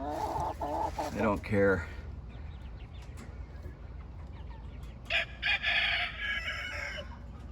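Chickens in a backyard coop cluck, and a rooster crows loudly near the end. A person talks briefly at the start.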